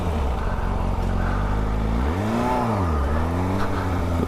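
A Yamaha FZ6 motorcycle engine runs loud and close, rising in a smooth rev, peaking, and falling back to a steady drone. There is no speech.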